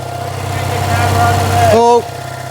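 Abandoned 2CV-based Falcon S kit car engine idling steadily at close range with a low, even rumble. A voice speaks over it near the end, then the engine note shifts.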